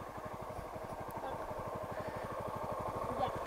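A motorcycle engine idles steadily, its even rapid putter continuing without pause at moderate loudness.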